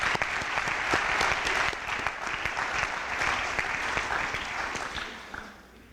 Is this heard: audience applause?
yes